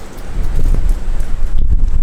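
Strong wind on the Sea of Okhotsk coast in Japan buffets the microphone in a constant loud rumble with gusty fluctuations.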